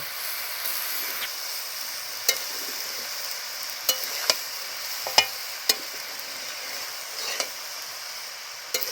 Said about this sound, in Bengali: চিনিটা দিয়ে আমি ভালো করে মিশিয়ে নিব